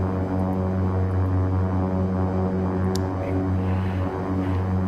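Twin turboprop engines of a simulated King Air 350 run in X-Plane 12, giving a steady, loud propeller drone with a deep throbbing hum that holds throughout.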